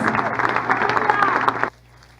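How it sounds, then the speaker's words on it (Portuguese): Church congregation at an evening communion service applauding Jesus, a steady burst of dense clapping for under two seconds that cuts off abruptly, leaving a quiet room. "Aplauda Jesus."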